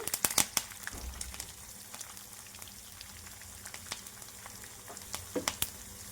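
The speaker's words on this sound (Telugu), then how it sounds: "తాలింపు పచ్చళ్ళు అనేది వేసేసుకుందాం." Curry leaves and asafoetida drop into hot oil as a tempering for gongura pickle, bursting into sharp crackling pops at first, then settling into a lighter sizzle with scattered spits.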